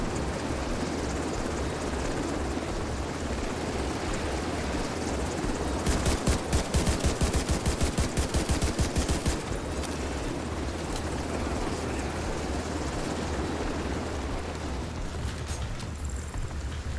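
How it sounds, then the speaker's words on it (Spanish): Helicopter rotor thumping drones steadily through a firefight in Tom Clancy's The Division 2 on PC, with bursts of rapid automatic gunfire crackling midway and players talking over the action. "No veo el helicóptero, tío."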